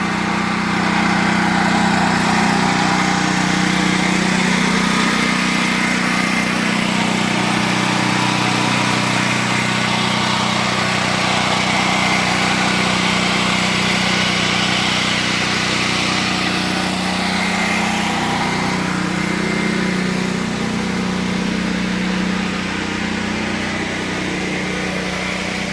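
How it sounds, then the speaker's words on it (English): A Predator 8750 portable generator runs steadily throughout, a continuous mid-pitched engine drone with a constant hum, heard from a short distance while powering a house. "The generator, you can hear it running in the back"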